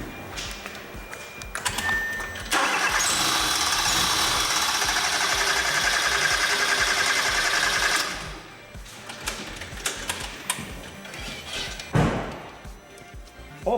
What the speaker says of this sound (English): So I'm gonna go ahead and crank the engine